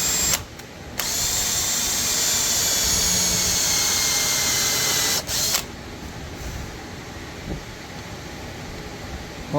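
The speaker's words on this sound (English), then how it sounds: "I'm going to put the brad point in the center of the mark of the hole, and I'm going to get this thing spinning and push" A power drill fitted with a brad point bit bores a hole in a wooden chair stretcher part, giving a loud, steady whine that runs for about five seconds, briefly stops, then continues a little lower and rougher.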